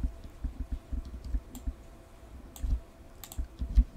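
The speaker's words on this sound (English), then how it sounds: "Click on the last one, and that selects all of the fabrics" Sharp computer mouse clicks tap out at an irregular pace while fabric swatch files are selected for import into quilt design software, close and clear against a quiet room hum.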